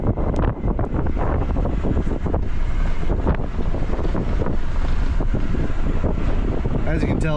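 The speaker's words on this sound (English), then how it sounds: "As you can tell, it is pretty windy today." Strong wind blowing outdoors on a wheat farm, gusting 15 to 20 mph, roaring loudly and continuously across the microphone as dense buffeting rumble, with a voice speaking faintly under it.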